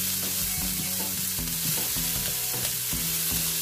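Onion and garlic sautéing in a pan, a loud, steady sizzle close up, with repeated scraping and tapping of a utensil stirring through it and no voices.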